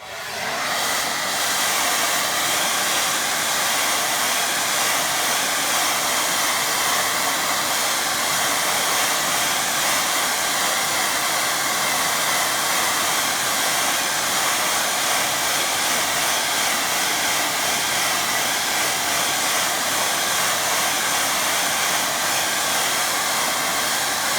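A hair dryer blowing steadily to dry a watercolour painting, a loud, constant whooshing roar that runs without a break from start to finish.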